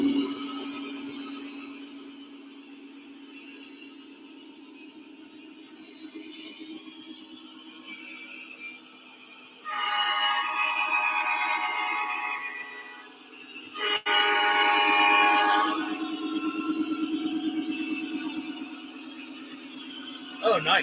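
A model train's steady engine hum drones throughout, joined by two loud horn blasts in the middle, with a person talking at times over the rumble.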